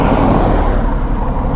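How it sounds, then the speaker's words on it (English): Car passing on the road as a loud, close, steady low rumble of engine and tyre noise over a short stretch, with no talk. "I'm waiting till this car come by."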